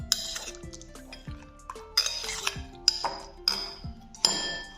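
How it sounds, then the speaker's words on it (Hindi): A spoon clinks and scrapes against a bowl in a run of sharp metallic taps while chicken shawarma marinade is stirred with yogurt, close and clear, with no talking. "अच्छी तरह मिक्स करेंगे।"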